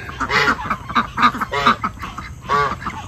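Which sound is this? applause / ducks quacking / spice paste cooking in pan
ducks quacking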